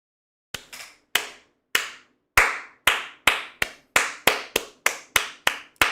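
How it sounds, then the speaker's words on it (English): Slow, sharp single claps from one person, starting sparse and settling into a steady rhythm of about a dozen crisp, close hand claps with no talking. "Clap her up."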